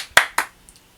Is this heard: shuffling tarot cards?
no